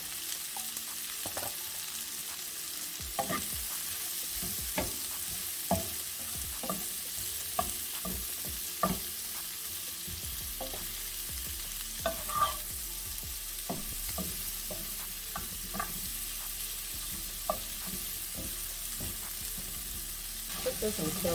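Peppers and brassicas sizzle in a hot sauté pan, with a steady frying hiss punctuated by frequent sharp clicks and scrapes of stirring, close and without talk.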